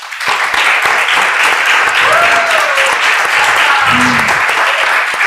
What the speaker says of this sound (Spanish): un aplauso para Vega.